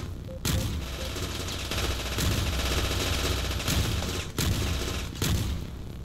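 Gunfire in the top-down shooter Teleglitch, a few sharp separate shots punctuating a loud, rumbling battle din, close and heavy, with no speech.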